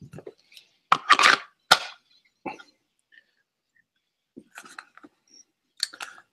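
A 1911 pistol holster clicks in sharp, close bursts, a cluster early on and scattered lighter clicks later, separated by silent gaps.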